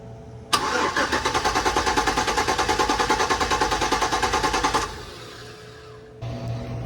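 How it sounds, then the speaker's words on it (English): An LS-swapped Chevrolet C10 cranks steadily for about four seconds with a fast, even starter rhythm, then drops to a faint hum without catching; loud and close, with no talk. "I'm going to try to crank it now and see if the fuel pump is going."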